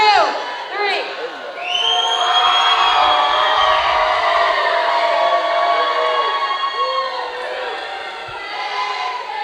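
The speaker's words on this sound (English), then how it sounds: "we have the Misdemeanors fan section singing the Anthem of Canada as their cheer" A fan section in an arena sings the Canadian national anthem together as a cheer, a sustained mass of voices filling the space loudly with a few shouts rising above it.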